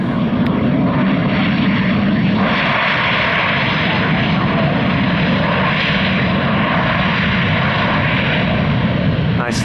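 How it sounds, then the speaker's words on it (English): Loud, steady roar of a Cessna 560 Citation V business jet landing on the runway, a broad continuous engine rush that stays close and constant throughout the clip. "Cessna 560 Citation V or 5. Landing on runway 6."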